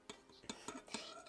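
A spoon stirs a thick homemade slime of Metamucil and water with food coloring, giving soft scraping clinks against the bowl in a few uneven strokes, close and quiet.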